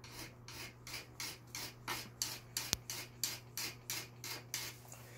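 Steady back-and-forth rasping of fine sandpaper rubbing a grooved part of a Janome sewing machine under repair, about a dozen even strokes in a regular rhythm over a low constant hum.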